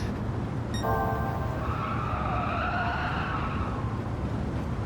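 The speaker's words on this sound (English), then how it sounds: "Had to hit the brakes a little bit. The car wanted to understeer." A race car in Gran Turismo 7 braking hard and understeering into a corner, tyres squealing in a rising, wavering skid over a constant engine drone, lasting a couple of seconds.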